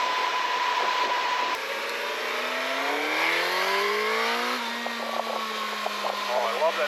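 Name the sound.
Suzuki GSX-S1000GX+ inline four motorcycle engine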